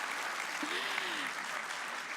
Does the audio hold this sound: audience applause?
yes